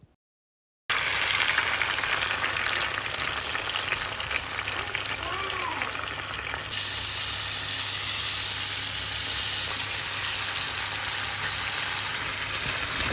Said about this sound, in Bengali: আমি চিংড়িটা ভুনা করে নিচ্ছিলাম একদম জাস্ট পেঁয়াজ দিয়ে নর্মাল যে চিংড়ি ভুনাটা করে সেই ভুনাটাই করছিলাম